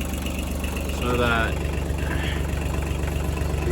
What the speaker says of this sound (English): I'm just using the bigger tractor to lift up the small one